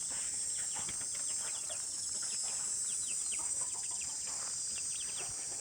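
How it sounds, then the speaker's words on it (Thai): Chickens cluck and call now and then in a rural village yard in the evening. The sound is faint and somewhat distant, under a steady high insect drone, and no one talks. "โอ้ไก่มันตื่นพี่น้องเนี่ย"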